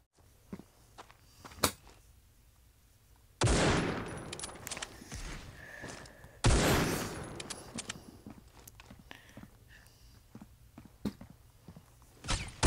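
Bursts of gunfire in the mobile shooter Critical Ops: a sharp single shot early, then two loud crackling volleys with trailing echoes, followed by scattered fainter shots and clicks.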